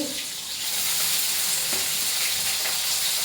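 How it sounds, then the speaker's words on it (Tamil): Ginger and about ten garlic cloves sautéing in a pan, a dense steady sizzle that swells after the first moment and then holds close and loud, with no one talking. "ஒரு பத்து பூண்டு எடுத்துருக்கேன் வதக்கிக்கலாம்"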